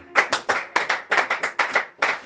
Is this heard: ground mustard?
no